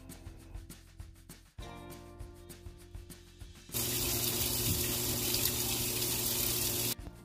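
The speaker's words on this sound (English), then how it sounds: "now I'm going to put it in the washer just to give it one last rinse" Water rushes into a washing machine set to its hottest setting for a final rinse, a steady hiss that swells louder midway and cuts off near the end, with no talking.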